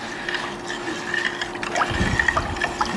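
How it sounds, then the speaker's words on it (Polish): About 50 ml of soy sauce is poured into a pot of beef for a dark sauce, making a soft, close trickle and splash that grows fuller near the end over faint kitchen noise. "dodam tutaj sos sojowy"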